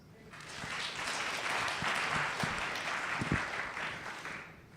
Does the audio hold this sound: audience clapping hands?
yes